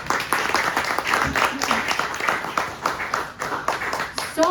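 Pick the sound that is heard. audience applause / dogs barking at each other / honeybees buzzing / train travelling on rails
audience applause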